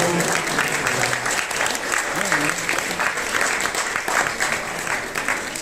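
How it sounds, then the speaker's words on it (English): Wedding guests applaud steadily and loudly at a reception, a dense wash of clapping that holds evenly throughout with a few voices mixed in. "Can we big round of applause?"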